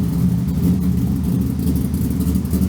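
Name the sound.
V10-swapped Lincoln Continental engine, first drive in reverse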